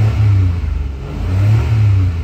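A 2017 Mitsubishi Mirage with a 1.2-liter engine revs up and settles in two steady swells, a loud close mid-low engine drone with no talking.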